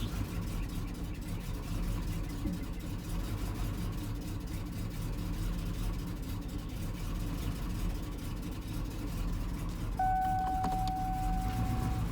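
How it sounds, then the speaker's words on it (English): A 1997 hearse engine idles low and steady under the open hood, a slow rumbling hum throughout, with a short electronic beep near the end. "Very slow idle."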